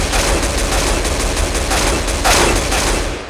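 Counter-Strike: GO AK-style rifle fired in quick taps, a dense, loud volley of close gunshots running straight through with barely a break.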